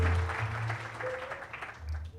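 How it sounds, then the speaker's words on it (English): Audience applause at a formal handover event for Uganda Telecom to the Ugandan government, a steady burst of clapping through the whole stretch with music or voices faintly underneath. "Please clap for Matia."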